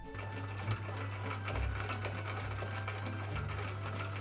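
A sewing machine runs continuously while stitching a costume body, a steady mechanical whir with rapid needle rhythm and a few brief changes in pace, moderately quiet and unaccompanied by talk.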